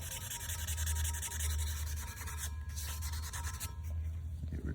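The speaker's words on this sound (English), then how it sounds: "Just take our sanding block" A sanding block rubs back and forth over an old exhaust tip, producing a steady, rhythmic scraping that stays close and fairly quiet throughout.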